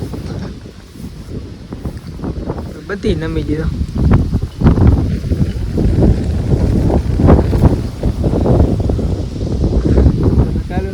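Strong, steady wind sweeps across a rain-soaked millet field, a continuous broadband roar and buffeting that runs the whole time beneath someone talking close by.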